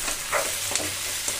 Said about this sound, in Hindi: अब इसको थोड़ा सा भूनने देते हैं।